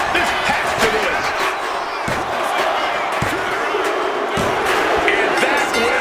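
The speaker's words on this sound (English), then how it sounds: "What a raucous crowd here tonight." Wrestling arena crowd in the video game WWE 2K26 during a Hell in a Cell match, a loud, continuous roar of cheering punctuated by several heavy slams from the ring.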